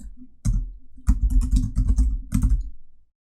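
Rapid keystrokes on a computer keyboard come in close, crisp bursts, with a short pause before a longer run of irregular clicking that stops abruptly.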